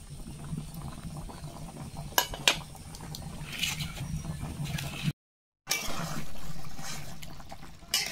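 Meat curry with reduced gravy simmering in a cooking pot while it is stirred, giving a low bubbling hiss with a couple of sharp spoon knocks against the metal, a brief dead gap, then steady simmering again.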